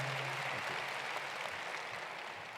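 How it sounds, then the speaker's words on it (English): A commencement audience at a university winter graduation ceremony claps for a speaker, a dense, steady round of applause that fades slightly toward the end and sounds somewhat distant. "Let's give Dr. Pope another round of applause, please, for those wonderful comments."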